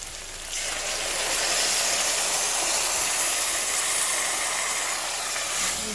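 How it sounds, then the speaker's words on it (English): Blended tomatoes go into a hot cooking pot of matoke, setting off a loud, steady hissing sizzle that starts just after the first half second and holds evenly to the end, with no talking. "So we're going to add our blended tomato."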